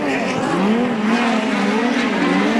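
Speedcars in a heat race at Warrnambool roar close and loud, engine notes rising and falling with a faint tire scrub as they power through the turns, no voices.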